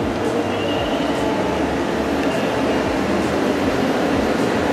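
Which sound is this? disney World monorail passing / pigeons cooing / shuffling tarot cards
disney World monorail passing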